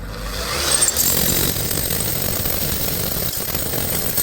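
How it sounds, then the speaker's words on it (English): A powerful rented rock drill bores into bedrock, a loud continuous hammering rumble with gritty broadband noise that runs steadily from start to finish at close range. "I've gone out and rented myself a more powerful machine, which should cut down the time spent drilling to maybe just 8 hours or so."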